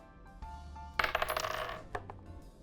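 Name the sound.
dice rolled for initiative in a tabletop game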